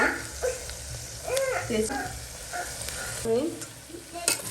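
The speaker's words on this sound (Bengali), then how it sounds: "এদিকে পেঁয়াজটা ভাজছি গোটা মশলাগুলো দিয়ে নেব" Onions frying with whole spices in a pan, a low steady sizzle with stirring scrapes close by, while people talk over it intermittently.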